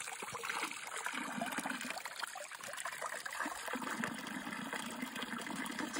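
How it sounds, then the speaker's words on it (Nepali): Water running from a small roadside spout on the way to Gerês, Portugal, a continuous close trickle and splash with a fluctuating gurgle, no talking. "बाटोमा चाहिँ हामीले एउटा सानो धारा देख्यौँ"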